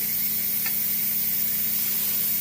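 Thin steaks sizzling on a hot grill, giving a steady, even hiss with a low hum underneath and no talking.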